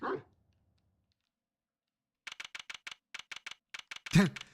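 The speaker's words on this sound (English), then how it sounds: "Dog." A dog in the Ace Attorney video game gives a quick series of short, clipped electronic barks in a rhythmic burst, preceded and followed by brief voice sounds.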